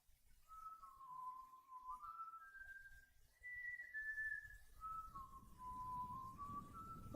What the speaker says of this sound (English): Wonder who's whistling.